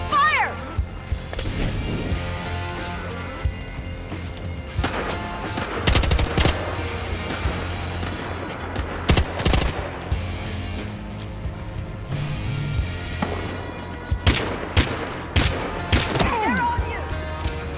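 Gunfire in the video game Battlefield Hardline, repeated sharp shots and bursts of automatic fire scattered over a steady background rumble, with voices shouting in between.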